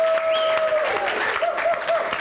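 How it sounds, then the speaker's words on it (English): Audience applause for a local production company's guests, a steady wash of clapping from a crowd with a sustained tone running under it, fairly loud and continuous throughout. "Big round of applause for them."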